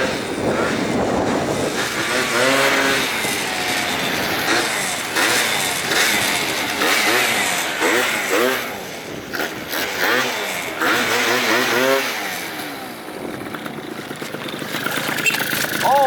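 A 70cc Yamaha BWS scooter engine revs up and down loudly and close, its pitch sweeping repeatedly in rising and falling runs throughout, with no talk over it.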